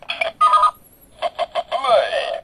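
A Kamen Rider Decade Decadriver DX K-Touch toy belt gives a short string of electronic beeps and chirps as its phone button is pressed, ending in a sweeping warble, close and fairly loud.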